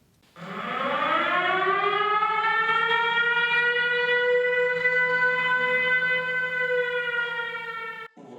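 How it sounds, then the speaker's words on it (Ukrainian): An air raid warning siren rises to a steady loud wail, holds for several seconds, then cuts off abruptly during a school inspection; no voices accompany it. "Система оповіщення повітряної тривоги працює бездоганно."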